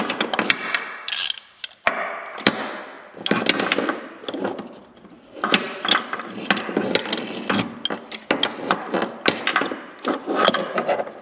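Clicking ratchet of a wrench or socket tightening a fitting while installing train horns on a '40, with repeated close metallic ticks and clunks in uneven bursts and brief pauses.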